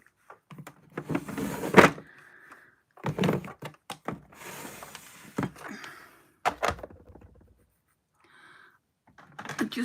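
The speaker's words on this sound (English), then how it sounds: "let's put this highlighter palette back in the drawer." A cosmetics highlighter palette is set into a drawer and the drawer is pushed shut, giving a few close handling clatters and thunks with soft sliding rubs between them, then quiet.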